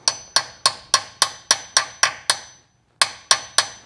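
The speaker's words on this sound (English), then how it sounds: "tap it in place so it would engage well and you don't round it" Tapping a socket onto a drain plug on a Toyota or Lexus transfer case or differential, a quick run of sharp metallic taps at an even pace, then a short pause and three more taps, close and clear.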